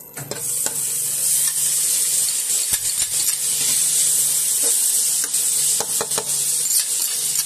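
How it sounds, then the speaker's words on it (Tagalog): Bacon browning in butter and a little oil in a pan, a loud continuous close sizzle with crackling pops throughout. "Kailangan i-brown natin ang bacon natin"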